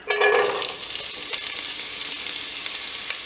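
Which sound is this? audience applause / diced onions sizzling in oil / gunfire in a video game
diced onions sizzling in oil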